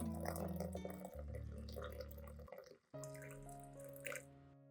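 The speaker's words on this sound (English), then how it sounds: "add enough hot water to the bowl" Hot water pours and splashes into a bowl holding ginger and dish soap, a close, continuous trickling stream with a short pause before pouring resumes; no talking.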